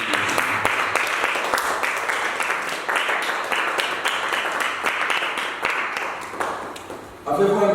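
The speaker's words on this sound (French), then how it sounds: "Acclame Jésus." A church congregation claps and applauds at a worship service, dense rhythmic clapping filling the room close by, with voices mixed in throughout.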